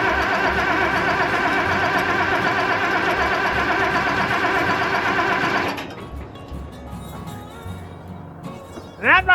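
An old, long-abandoned Case tractor engine chugs loudly and steadily for several seconds while starting, then cuts out, leaving quieter knocks and a brief rising whine at the end.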